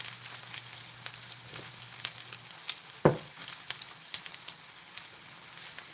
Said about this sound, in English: Yeah, that grease pop.